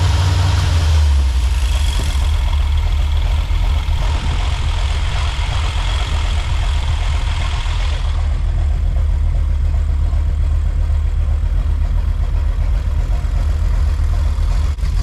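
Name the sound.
1984 Chevy Silverado 350 engine running with carburetor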